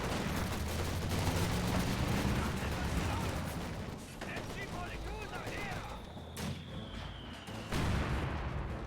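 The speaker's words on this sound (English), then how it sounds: "That US mortar's been constantly firing." Battle sounds from Company of Heroes 2 with a US mortar firing, repeated booms and gunfire crackle layered over continuous combat noise, while someone talks over it.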